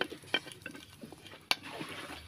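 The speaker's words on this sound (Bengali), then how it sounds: "ফোড়নটা ভালো করে ভেজে নেওয়ার পর" Whole spices, bay leaf, dried chilli and whole garam masala, frying in ghee, with a soft sizzle under a few clinks of a spoon against the pan and two sharper taps, no voices.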